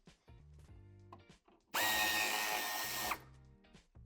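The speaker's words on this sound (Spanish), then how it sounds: "Vamos a aflojar estos dos tornillos del piloto." Power tool loosening screws on a BMW X7 G07 tail light during a tow hitch installation, one loud sustained whirring burst of about a second and a half, with quieter handling clicks before and after.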